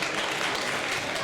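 A wrestling crowd at a BLW tag match applauds a clean break in the ring, a dense burst of clapping that sounds fairly close and fills the whole moment.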